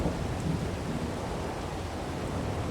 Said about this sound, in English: And here comes the thunder.